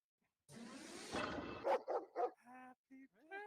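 A dog barks as a sound effect during a live sports betting stream, a short burst of sharp barks and yips followed by whimpering, fairly close and alone without talk.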